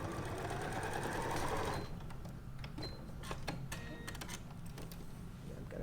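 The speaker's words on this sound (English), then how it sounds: "I'm going to do it on my trusty Janome 4300." A Janome 4300 sewing machine stitches across fabric in a fast, steady mechanical whir for the first two seconds, then stops, leaving quiet room tone with a few light ticks and handling clicks.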